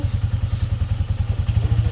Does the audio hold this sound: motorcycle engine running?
yes